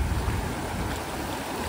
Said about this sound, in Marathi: खालच्या बाजूला पण तुम्ही बघत असाल खूप वेगाने पाणी जात आहे